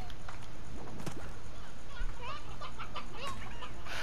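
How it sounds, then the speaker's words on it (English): Chickens cluck and chirp in a steady game-like ambience in Slime Rancher, several short calls scattered throughout at moderate volume. "Here, chickens."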